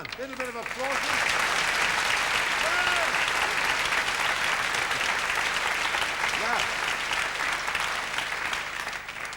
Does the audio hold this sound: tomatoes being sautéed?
no